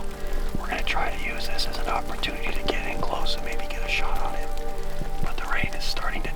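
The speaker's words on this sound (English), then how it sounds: "We're getting rained on really freaking hard right now." Heavy rain falls outdoors on open pronghorn country during an archery hunt, a steady dense wash throughout with soft whispered voices over it.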